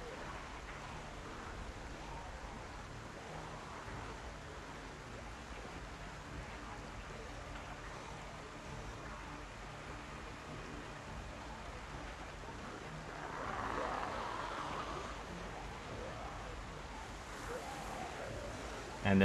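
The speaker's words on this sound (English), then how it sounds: "And the rain doesn't really help." Steady rain in the Project Zomboid video game hisses as a constant, even wash throughout, briefly swelling midway, faint under occasional low talk.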